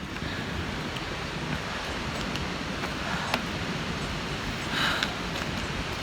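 Wind and surf roll along the Cleveland Way coast near Filey, a steady broadband wash of breaking waves with gusty wind buffeting the microphone, a brief louder swell near the end and no talking.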